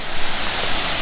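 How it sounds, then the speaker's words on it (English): Laurel Fork Falls in South Carolina's Jocassee Gorges gives a steady, loud rushing roar of falling water heard from near its base. "You could actually come in to the base of the waterfall."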